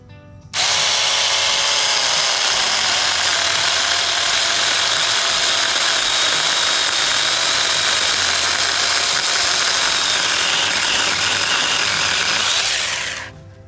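A mini electric chainsaw cutting through a black walnut branch about 2.5 to 3 inches thick, a loud, steady high-pitched motor whine with grinding chain noise that starts abruptly, holds for about twelve seconds, then cuts off.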